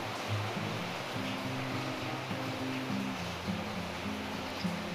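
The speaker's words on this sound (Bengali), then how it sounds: "এখন আমরা এটাও একটু ফোটাবো।" Raw mango and mint juice boils in a pot for aam panna, giving a steady, soft bubbling hiss with a low hum underneath, continuous and fairly quiet throughout.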